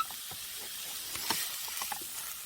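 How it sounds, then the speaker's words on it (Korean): Ingredients stir-fried quickly in a hot pan for dried radish japchae, a bright, steady sizzle with intermittent scraping and tossing clatters, close up and without voices. "빨리 볶아 타지 않게 잘 볶아야 되거든요. 지금 빠르게 볶아주고 있습니다"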